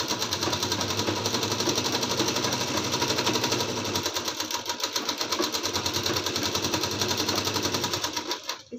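A sewing machine stitches a lined suit, running in a fast, steady mechanical rattle close by for most of the stretch before slowing and stopping at the end.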